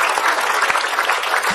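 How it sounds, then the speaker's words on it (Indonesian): Audience applause at an Islamic religious gathering as a preacher is welcomed to the stage, a full, continuous crowd clapping that stays steady and fairly loud, with no talk over it. "Tepuk tangan buat Ustadz Syam."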